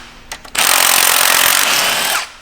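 A power tool, likely an impact gun, runs in one loud sustained burst of nearly two seconds, removing alternator bracket bolts on a BMW 750i with the 4.4 N63TU twin-turbo V8. A few short clicks come first.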